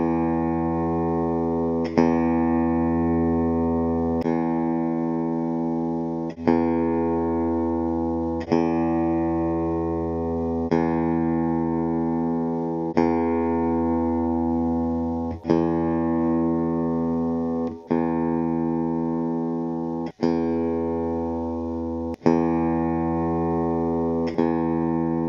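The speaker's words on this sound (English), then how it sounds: "And this is how a brass bridge saddle sounds." An electric guitar fitted with a brass bridge saddle strums sustained chords roughly every two seconds, each ringing out steadily before the next strike, with no voices over it.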